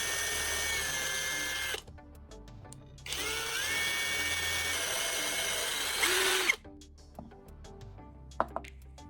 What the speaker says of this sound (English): Drilling these holes is crucial for routing the wires and securing our heating element.